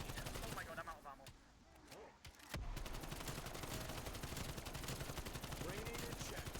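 Rapid automatic gunfire from LC10 and AK74u weapons in a zombies-mode video game, loud, dense bursts running almost continuously after a brief lull near the start.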